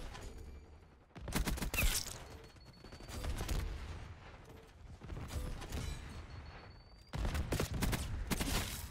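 Tanto .22 submachine gun firing in Black Ops 6, with rapid bursts of close, loud automatic fire in separate strings and mechanical clatter between them.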